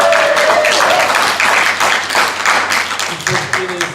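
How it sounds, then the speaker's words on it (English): A crowd applauds loudly, sustained dense clapping that carries on and starts to thin out near the end, with a few voices mixed in. "Can we give them a huge round of applause?"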